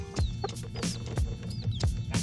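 A hen and her chicks at a water drinker in a coop on a cold day, with repeated short clucks, soft chirps and brief pecking knocks close by.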